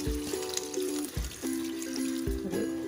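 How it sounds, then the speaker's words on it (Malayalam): Water pours into a cooking pot of lentil and taro-leaf curry, giving a close, gurgling trickle with a few brief splashy bursts. "പിന്നെ വെള്ളം ഒഴിച്ചു കൊടുക്കാം."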